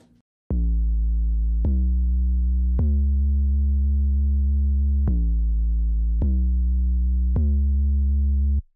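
Clean 808 bass from the Flex plugin in FL Studio plays six deep, sustained notes in a slow even pattern, loud and alone with sharp attacks and long tails.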